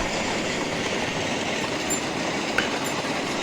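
A freight train passes by a fertilizer plant in Monroe Center, Illinois, a steady, loud wash of rolling wheels and rail noise with one faint squeal near the end. No voices are heard.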